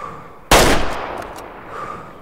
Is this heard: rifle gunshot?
yes